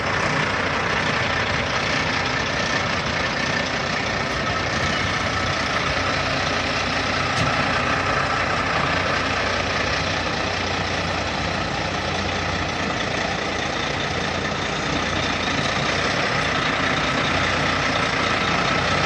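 A heavy truck idles steadily while hauling a mobile home through a tight spot, its low engine rumble and broadband drone holding constant and fairly loud throughout with no talk.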